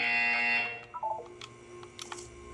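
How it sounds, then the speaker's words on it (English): A harsh electronic buzzer sounds loudly in the Portal 2 video game, a sustained tone lasting about half a second, followed by scattered short beeps and chirps. "You will hear a buzzer. When you hear the buzzer, look up at the ceiling."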